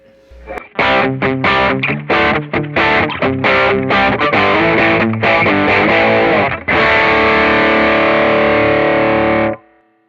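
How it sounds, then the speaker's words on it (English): Heavily overdriven electric guitar plays choppy, muted riffs, then lets a loud distorted chord ring out to the end. "That's all these sounds into a more overdriven amp."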